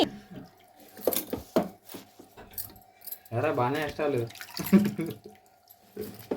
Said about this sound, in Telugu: వేపాకు తెచ్చాను, శుభ్రంగా కడుగుతున్నాను.